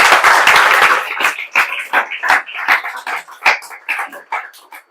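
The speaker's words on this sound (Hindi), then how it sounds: "इसके लिए ताली बजा दीजिए" An audience claps loudly and densely at first, then the applause thins into scattered individual claps that fade out.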